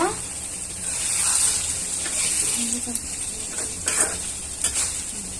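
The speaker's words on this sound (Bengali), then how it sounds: "এই যে তেল উঠে গেছে, আমি এখন ধনেপাতা দিব, দিয়ে একটু নাড়া দিব।" Fish curry sizzles in hot oil in a village kitchen while coriander leaves are stirred in, giving a steady frying hiss with scraping stirs and a few clinks of the pan.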